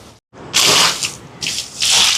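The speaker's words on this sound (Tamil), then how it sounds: "தண்ணி ஊற்றி விட்ட நண்பர்களே" Water is poured into a cooking pot for a large vegetarian almsgiving meal, coming in several loud, splashing gushes with short breaks between them.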